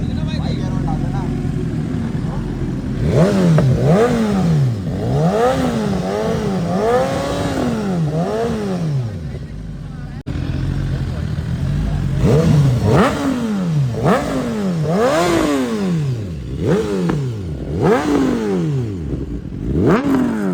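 A motorcycle engine revs repeatedly during a Sunday morning group ride, with rising and falling throttle blips in a steady rhythm, loud and close, while people talk over it.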